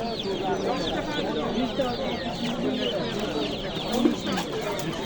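Chickens cluck and squawk continuously at the crowded Andijan poultry market, many birds layered close and at a distance in a dense chatter, with people talking throughout.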